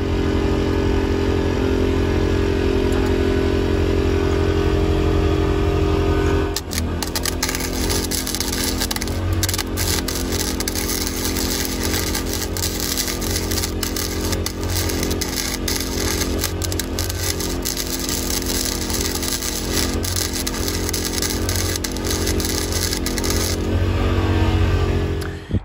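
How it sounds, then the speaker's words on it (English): Arc welding a swivel jack stand onto a trailer, a loud continuous crackling buzz that starts a few seconds in and runs steadily for most of the clip before cutting off near the end. "Now I'm going to continue welding along the top and the sides."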